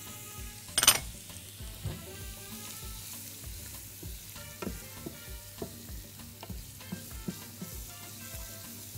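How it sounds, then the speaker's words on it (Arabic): Garlic and dried coriander frying in oil for an okra dish, a soft continuous sizzle with scattered utensil clinks and stirring scrapes against the pan, close by. "دي طشه الويكه."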